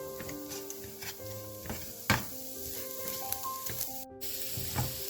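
Grated coconut with jaggery and cardamom sautés in a pan over a medium flame, a soft steady sizzle broken by stirring clicks and scrapes, with tonal background music running underneath.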